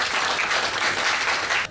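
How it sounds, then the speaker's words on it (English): A conference audience bursts into steady, dense applause, a continuous wash of many hands clapping close and loud throughout, with no voices standing out. "Could we, in that case, then give a round of applause?"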